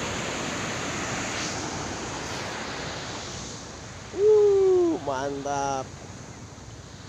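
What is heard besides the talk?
waves at Ciletuh beach, Ciletuh Geopark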